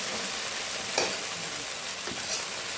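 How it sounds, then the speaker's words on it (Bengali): Mustard paste masala frying in oil in a pan for a fish curry, a continuous close sizzle broken by a couple of soft scraping stirs, with no voices. "এখন মশলাটা মোটামুটি ভাজা হয়ে এসছে"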